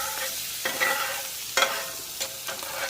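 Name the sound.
butter browning in a pan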